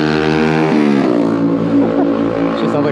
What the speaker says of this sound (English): She sounds like a dirt bike.